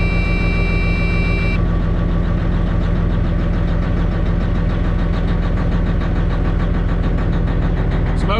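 A truck engine idles right after a cold start, running with a steady, loud, close rumble and a knocking pulse, with a faint whistle that fades early on. This truck usually smokes a little at startup.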